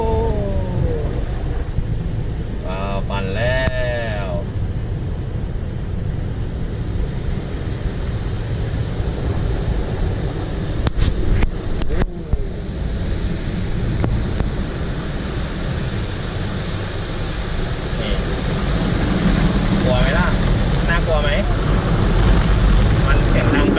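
An automatic car wash runs steadily with a constant wet rushing roar of spinning brushes and spraying water, while people talk over it and a child squeals now and then.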